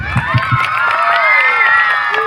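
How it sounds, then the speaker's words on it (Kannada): At a school cultural event, an audience cheers loudly with a mass of shouting, mostly children's voices, and some scattered clapping, in a continuous burst. "ರುದ್ರಮಣಿ ಸ್ವಾಮೀಜಿಗಳಿಗೆ ಒಂದು ಜೋರ ಚಪ್ಪಾಳೆ ಬರಬೇಕು"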